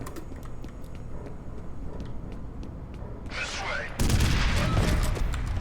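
Multi-rocket launcher blasting in the video game F.E.A.R., a sudden loud, dense burst of fire erupting after a stretch of steady in-game background noise, with a faint rushing sweep just before it.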